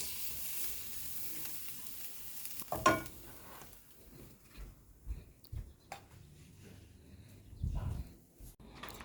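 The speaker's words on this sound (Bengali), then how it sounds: "শাকটা একেবারে ভাজা ভাজা করে ফেলাইছি" Leafy greens stir-fry quietly in a pan, a faint low sizzle with occasional louder scrapes and knocks of a utensil against the pan.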